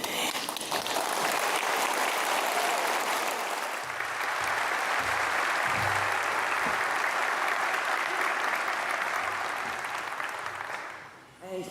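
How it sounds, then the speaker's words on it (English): A graduation convocation audience claps in a sustained, dense wave of applause lasting many seconds, steady and full before tapering off at the end, with no speech over it. "you just heard everybody clapping"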